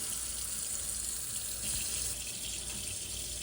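Tap water runs steadily from a kitchen faucet while blueberries are rinsed in a pumpkin-shaped fruit washer, giving a continuous close hiss and splash that swells slightly midway, with no talking.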